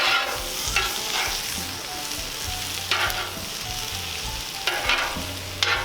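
Food being scooped and scraped across a hot Cuisinart 360° griddle, alongside steaks and asparagus, gives a loud, steady sizzle broken by a few scraping strokes of a spatula.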